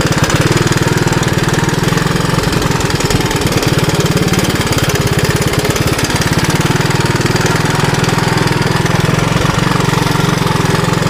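A 1981 Honda 185S motorcycle engine while riding off-road, a loud, continuous buzzing single-cylinder drone with rapid knocking pulses, close and unbroken for the whole stretch, no talking.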